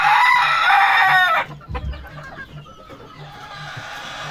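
A breeding rooster crows loudly and close for over a second, then low clucking continues over a quiet, steady background hum.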